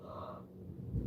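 A single constricted inhale through a tightened throat during a breathing workshop, a short breathy, airy rush that tapers off, followed by a low soft sound at the end.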